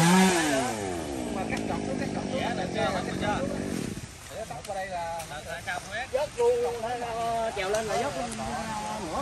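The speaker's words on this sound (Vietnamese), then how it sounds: "Là em tiến leo lên cưa đó" Chainsaw cutting roadside tree branches from up in the tree, a strong revving whine that holds steady for several seconds, then drops off and returns in rougher, uneven bursts.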